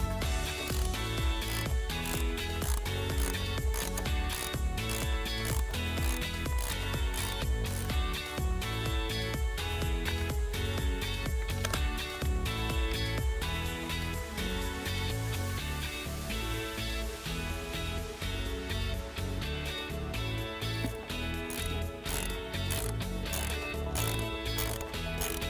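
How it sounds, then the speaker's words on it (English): Ratchet fitted with a 13 mm socket loosens a bolt on a 2013 Buick Verano, giving steady, continuous close clicking that runs nonstop with no talk. "I'm going to use a 13 millimeter socket to loosen this here."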